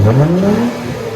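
Straight-piped 2007 Acura TL Type S with a 1.5-inch pipe all the way back, engine revving up loudly with a rising pitch, then easing off to a steadier drone.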